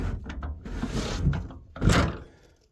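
A long door on a 320L log loader swinging open, with a couple of metallic clunks and thuds up close and a louder latch-and-swing sound near the end, no talking.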